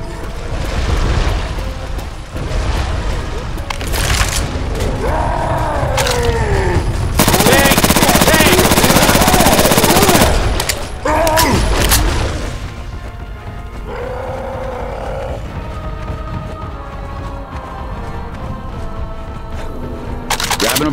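Gunfire aimed at the Tank in Left 4 Dead 2, with bursts of cracks and booms and one dense, loud roar of shooting in the middle. The shots come in and out over game noise and distant voices.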